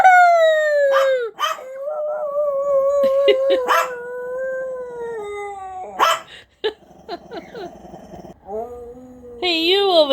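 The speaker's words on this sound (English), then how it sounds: "I'll never understand her howling." A pet dog howls in long, sliding, wavering tones across most of the stretch, broken by short yips and barks, up close in a home and with no talk over it.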